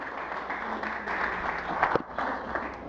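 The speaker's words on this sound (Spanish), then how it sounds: "Den un aplauso al Señor." Church congregation claps together at a service, a steady wash of applause at moderate volume with a few sharper claps standing out near the middle.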